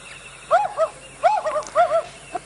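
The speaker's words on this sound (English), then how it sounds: "Let me just hear what a wood owl sounds like" A recorded wood owl call, a run of hooting, wavering notes in several short bursts, clear and fairly close against a quiet background hum.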